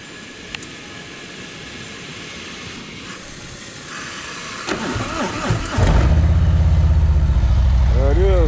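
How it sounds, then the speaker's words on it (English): A Harley-Davidson motorcycle being rinsed with water fires up after a long stretch of spraying hiss, catching with a burst and settling into a loud, steady, rumbling idle close by; a voice is heard briefly near the end. "while I'm rinsing her off, I'm gonna go ahead and start her up"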